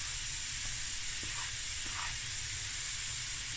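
Onion sizzles in hot oil over medium heat in a home kitchen pan, a steady, even hiss with faint crackles throughout and no voice.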